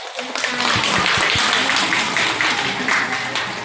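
Crowd applause at a Mother's Day gathering in Chiang Mai, a dense steady patter of many hands clapping close by, holding at full strength throughout with a few louder low thumps near the start.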